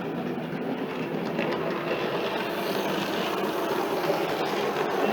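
A model train runs along track laid on glued-down ballast, giving a steady, loud, close rumble with a faint clickety-clack that holds evenly throughout.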